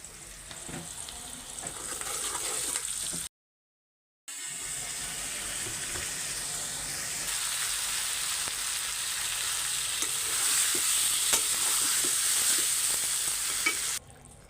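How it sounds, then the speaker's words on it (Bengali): Eggs sizzle and spit in a hot pan, a constant close hiss that cuts out briefly for a second, then resumes and grows slightly louder. "ডিম বেজে নিচ্ছে"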